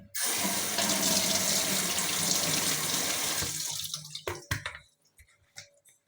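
Food is rinsed under a running kitchen tap, a steady close rush of water for about four seconds, then the flow stops and scattered drips and splashes follow.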